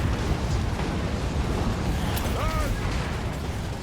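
Bombs going off in a Total War Warhammer battle: a dense, continuous roar of blasts and rumbling battle noise, loud and sustained, with a faint whistling tone briefly rising over it.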